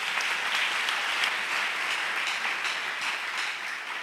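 A church congregation claps and applauds, giving a dense, steady roar of many hands that holds for several seconds and fades slightly toward the end.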